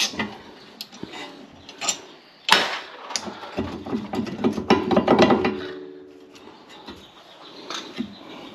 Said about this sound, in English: Take these caliper bolts out.